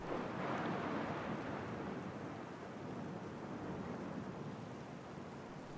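A storm with rain and thunder comes through as a soft, steady rush of rain with a faint low rumble underneath. It stays quiet and even throughout, with no voices.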